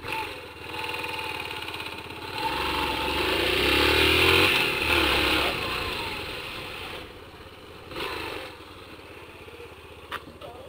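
A motorcycle engine drones and swells as it rides on the road, rising to a louder peak midway before easing back to a steady run, heard alone without talk.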